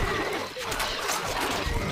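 A horse neighing in the medieval desert strategy video game Stronghold Crusader, a loud whinny lasting about two seconds with a rough, breathy texture mixed with game sound.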